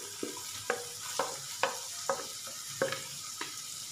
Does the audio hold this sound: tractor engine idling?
no